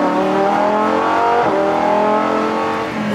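Car accelerating hard through a bend during a race, the engine's loud, steady whine climbing in pitch with rising harmonics and a brief dip mid-way, close and continuous.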